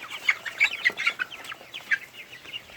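Young chickens cluck and chirp in a free-range enclosure, a mix of Shamo and Barred Plymouth Rock birds about two months old. Short calls overlap continuously at moderate distance with no voices.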